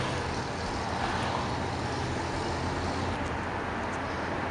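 A 1953 Ford Mainline sedan with a flathead V8 drives by on the road, its engine a steady, dense rumble blended with surrounding traffic noise, heard without talk.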